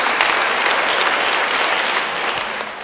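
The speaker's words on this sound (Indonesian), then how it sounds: "Yang percaya, beri tepuk tangan bagi dia." A church congregation applauds, producing loud, dense clapping from many hands that holds steady and then eases off slightly toward the end.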